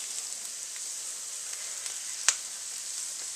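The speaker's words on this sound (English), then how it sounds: "Those onions are getting sweated down pretty good" Onions sweat in a pan with a soft, steady hiss and faint sizzle, broken once by a brief sharp tick.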